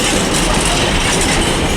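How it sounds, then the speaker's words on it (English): A South Western Railway train, the Weymouth to London Waterloo service, rolls into Southampton Central with a steady, loud rumble of wheels and a rhythmic clickety-clack that holds through the whole stretch, with no voices. "Also arriving is the 1300 South Western Railway service from Weymouth to London Waterloo"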